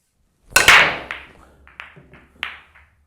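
A hard pool break shot: a sharp cue-ball crack followed by a scatter of fainter ball clacks and rebounds over about two seconds, close and alone.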